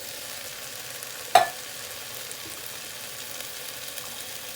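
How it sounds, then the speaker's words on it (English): Canned pinto beans drop into a pot on the stove with a single sharp splash and clatter, followed by a steady low sizzle and soft stirring, with no talking. "And now we're going to add in a can of beans."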